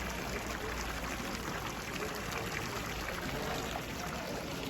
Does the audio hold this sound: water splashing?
yes